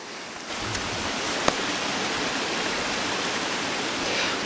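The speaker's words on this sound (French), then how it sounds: "Et je me retrouve au ruisseau." Forest stream on a mountainside rushing steadily over rocks, a continuous broadband wash of water close by with no voices and a faint brief tick partway through.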